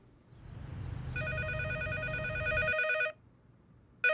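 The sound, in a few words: telephone ringing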